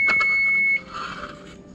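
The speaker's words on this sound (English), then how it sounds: "we've got the timer going off again" A kitchen timer beeps while oven-baked chicken breast cooks: a steady, clear electronic tone that cuts off after under a second, followed by faint kitchen background noise.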